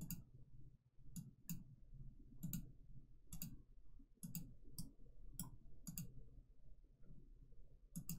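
Sharp computer mouse clicks, close and quiet, come one at a time at irregular intervals, about a dozen in all, over a faint steady hum with no talking.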